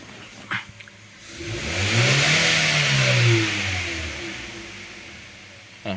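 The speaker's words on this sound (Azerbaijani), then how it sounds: "İndi mən bir dəfə qaz verməliyəm ki, testi götürsün." A car engine in an auto diagnostics workshop revs once during a diagnostic test, swelling from idle to a loud mid-range roar and settling back down, close and alone.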